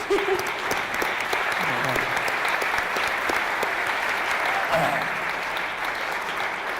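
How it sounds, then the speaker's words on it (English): Sustained, dense applause fills the room from a sizeable audience at a Pitch at Palace event in Newcastle, steady and even throughout, with a voice briefly audible beneath it. "So big round of applause for Laura Kennedy"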